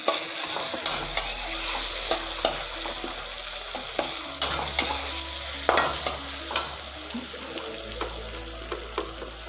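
Potatoes and tomatoes sizzle and fry in a pan while being stirred, with scraping and clinking strokes at an irregular rhythm over a steady low hum, close and fairly loud, with no voices.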